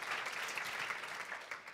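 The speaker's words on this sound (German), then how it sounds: "Applaus für die Cutterin." Applause for a film editor at a German journalism award ceremony, a steady dense patter of many hands clapping at moderate level throughout, with no voices over it.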